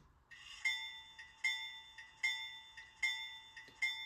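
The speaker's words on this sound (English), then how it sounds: "Also, here's the bell." A bright metallic locomotive bell from a LokSound sound decoder in a Rapido Comet model train cab car rings at a steady pace, five or six clear strikes with ringing tones between them, close and fairly quiet over a faint hum.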